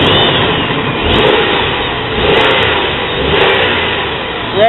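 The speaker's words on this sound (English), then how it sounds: "rev her up a little bit" A car engine revs steadily and loudly, rising in swells roughly every second while coolant air is being worked out of the system; no voices are heard.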